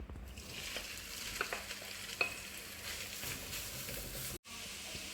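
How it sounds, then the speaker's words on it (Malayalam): Grated coconut frying in hot oil in a pan for kappa biriyani, a steady close sizzle and hiss with light stirring scrapes, ending in a brief cutoff before the sizzling resumes. "നമ്മൾ സെയിം എണ്ണയിൽ നമുക്ക് ഈ തേങ്ങ ചിരകിയത് നമ്മൾ വറക്കാൻ പോവാണ്"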